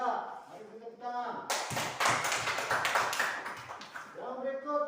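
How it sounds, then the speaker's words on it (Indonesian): A classroom of students claps hands together in a short, lively burst of clapping between stretches of a teacher's speech. "Iya, mari kita tepuk tangan."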